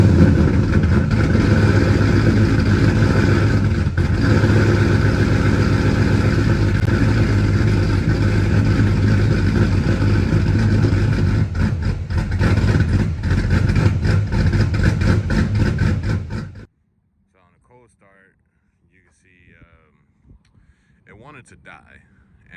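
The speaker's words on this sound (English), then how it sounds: "So did a cold start" A truck engine cold-starts and runs at a loud, steady idle close by for about sixteen seconds, then cuts out abruptly, leaving near silence with faint movement afterward.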